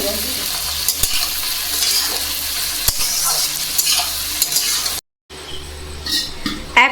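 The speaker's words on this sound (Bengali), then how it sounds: "এখন ফ্রায়েড রাইসের ফাইনাল স্টেপ চলছে তো এদিকে সবজিগুলো ভাজা হয়ে গেছে আর ওদিকে রাইস তো প্রথমে হাঁড়ির মধ্যে ঘি লাগানো হয়ে গেছে" Vegetables and rice are stir-fried in ghee in a pot for fried rice, giving a constant close sizzle with sharp utensil clicks and stirring. The sound cuts out briefly, then resumes.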